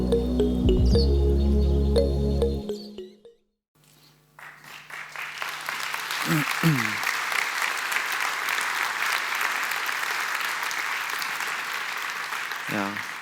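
Applause at a symposium for a photographer from Nairobi: after speech and a brief silence, a room of people breaks into sustained, moderately loud clapping that continues to the end, with occasional voices over it.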